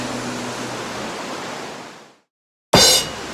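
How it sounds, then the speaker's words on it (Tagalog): Bunga Falls waterfall roars as a steady broad rush, then cuts off abruptly to silence before bursting back at full loudness. "Ito na yung falls, guys. Ito yung falls or Bunga Falls."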